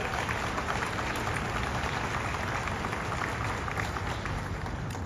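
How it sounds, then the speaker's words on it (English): An audience at a hotel grand opening ceremony claps in steady, dense applause, loud and close, continuing evenly without a break for several seconds. "Let's give them a round of applause"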